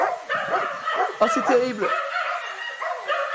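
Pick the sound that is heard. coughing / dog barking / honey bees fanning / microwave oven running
dog barking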